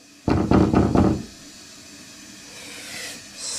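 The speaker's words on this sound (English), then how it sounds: "I guess the best thing to do is knock on the door." Four quick, loud raps on a door come close together from inside a room, followed by a faint hissing quiet.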